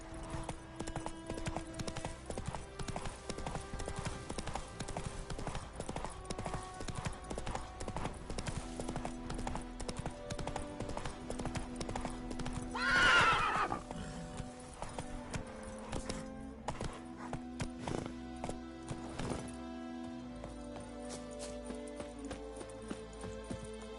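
Roach, a horse in the video game Witcher 3, trots with a steady, even clip-clop of hooves over background music, and a single brief neigh cuts in partway through.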